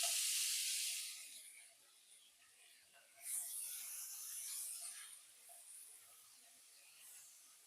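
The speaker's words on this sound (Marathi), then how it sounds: "तर आपल्याला कांदा छान आपल्याला त्याच्यामध्ये लालसर होईपर्यंत परतून घ्यायचा आहे." Chopped onion with cumin seeds sautéing in a pan makes a faint hiss that swells loudly at the start and again midway, then settles to a soft steady sizzle.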